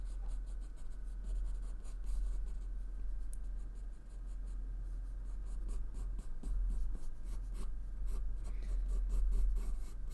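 Pen or pencil drawing out a crochet pattern profile on paper, quiet continuous scratching strokes close up with short pauses, steady for the whole stretch.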